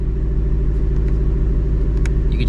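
A supercharged 2024 Ford Mustang GT idles with a deep, steady exhaust rumble close by, a continuous low burble with faint clicks over it.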